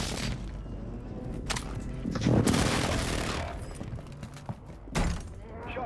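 An airstrike in Warzone 2 on Ashika Island lands as a rolling barrage of booming impacts and gunfire, swelling in the middle and hitting again near the end, with radio-style voices over it.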